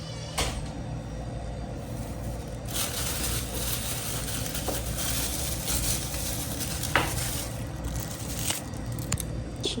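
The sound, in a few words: chicken adobo cooking in a pan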